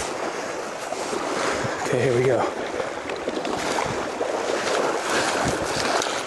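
Fast-flowing water rushing on the San Juan River during fly fishing, a broad continuous roar with wind buffeting the microphone and someone speaking briefly over it.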